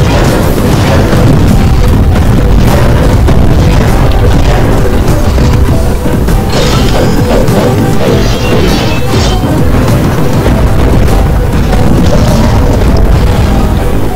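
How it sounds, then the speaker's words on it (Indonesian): Bombs hurled by a boss monster in the video game War of the Monsters burst in dense, continuous loud crashing explosions and smashing impacts with no pause throughout. "Dia bisa melemparnya kayak bom ini."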